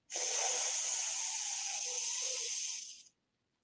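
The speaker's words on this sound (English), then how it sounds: "inhale through your nostril as deep as possible" A long, steady inhale through the nose, a close airy hiss lasting about three seconds before stopping abruptly.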